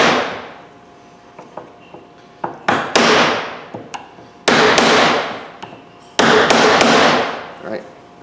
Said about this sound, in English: Get a chisel and a hammer and just give it a few whacks.